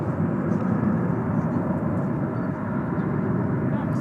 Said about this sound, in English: We should be a short time away from seeing Qantas Flight 8 going out to Sydney.